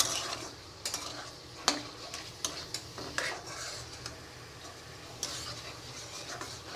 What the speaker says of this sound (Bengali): আমি এদিকে শাকটা বাগার দিচ্ছি